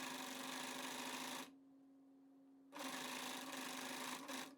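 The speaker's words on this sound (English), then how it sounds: "now put the footer down and start sewing" A Juki MO-50e overlock serger runs loud and close, stitching and trimming a fabric edge with its knife in two bursts separated by a quiet pause of about a second.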